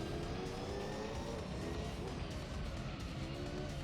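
A race car in Gran Turismo 3 overtakes a Pagani Zonda, its engine droning steadily with faint tire squeal throughout, fairly quiet and without speech.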